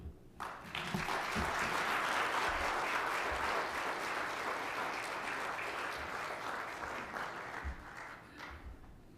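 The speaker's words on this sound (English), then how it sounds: "Ladies and gentlemen, I ask for another round of applause" Attendees at an Education Ministry stakeholder meeting with a business and energy chamber break into a full, dense round of clapping that holds steady for several seconds before thinning out.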